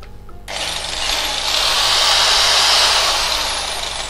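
A Japanese-market 100V electric hand drill starts abruptly and runs continuously, a loud high whine that climbs slightly in pitch and holds steady for about three and a half seconds.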